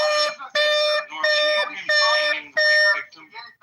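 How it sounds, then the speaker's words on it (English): A smoke detector alarm gives five loud, evenly spaced electronic beeps, each a steady, high, harmonic tone with short gaps between them. "Can someone play a smoke detector, please?"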